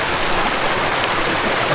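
Small river Kleine Bode in the Harz rushing under a bridge, a constant broadband wash of flowing water heard close and alone.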